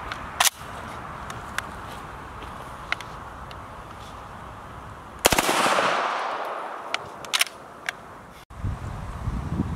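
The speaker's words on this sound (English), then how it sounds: "next up we're gonna run 3 rounds, 9mm, unsuppressed, out of a PTR MP5 machine gun" An unsuppressed 9mm PTR MP5 machine gun fired outdoors at a range, a few loud, sharp shots with one heavy report ringing out and decaying over several seconds.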